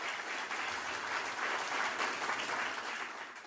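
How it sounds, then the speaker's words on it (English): Audience at a Nikki Haley campaign event ahead of the Iowa caucus bursts into steady, dense applause, many hands clapping at once, loud and sustained without voices. "Give them a round of applause"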